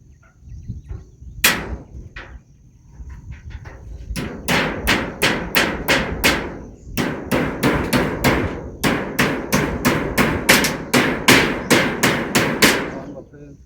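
A hammer drives nails into a rustic fence of wood cut from nearby forest, striking in steady, evenly spaced rhythmic blows, loud and close, with brief pauses between runs of strikes.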